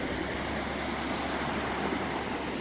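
Water rushes steadily along Pilchuck Creek, running a little high, as an even, unbroken wash of flowing water heard close and alone without any talk.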